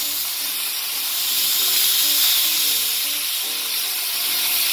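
Pork chops sear in a hot pan with a steady, dense sizzle and hiss that stays fairly loud and even throughout, with no talking over it.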